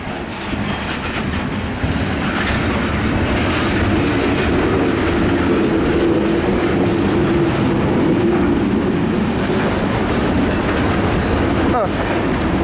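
A slow, heavy CSX mixed freight train with a multi-locomotive lashup rumbles steadily westbound close by, with continuous loud wheel noise and clatter throughout.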